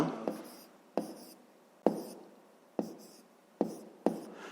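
Pen writing by hand on paper during a fifth-grade maths exercise, a series of sharp taps and short scratching strokes coming in regular bursts, close and quiet, with no talk.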